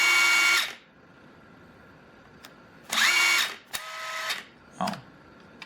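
A DeWalt impact wrench whirs in short bursts in forward, loud and close, with several separate run-ups and stops separated by near silence.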